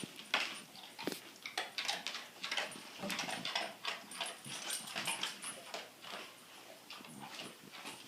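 A dog whimpers and yips softly over several seconds in a quiet room, with repeated high, thin whines and small sniffling breaths, fairly faint and alone without speech.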